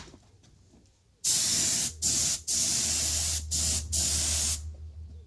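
An aerosol spray can paints a repaired mag wheel, giving loud close hissing bursts that start after a quiet moment and stop and restart in several short pauses.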